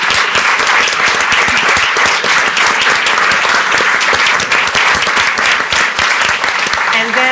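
A loud, dense round of audience applause thanks the members of an equity panel and carries on unbroken throughout, with voices blended into the clapping.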